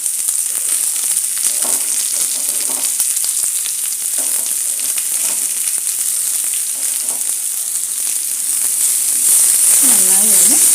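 Two small finely chopped onions frying in oil with browned garlic for Kerala-style potato masala give a steady, loud, close sizzle throughout, swelling into a brighter hiss near the end.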